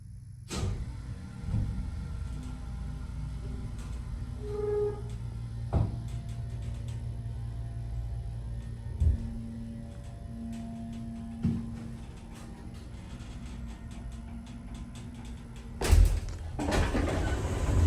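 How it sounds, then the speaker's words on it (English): Motor of a vintage 1967 ESCO hydraulic elevator at Gulfway Plaza in Houston, running as a steady low hum for the whole stretch, with a few thuds and clunks near the start and again toward the end. "So let's listen to the motor."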